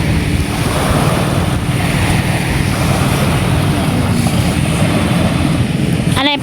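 Engine of a wooden outrigger bangka running steadily, a loud close droning rumble that holds constant, with water and wind noise mixed in and brief talk near the end.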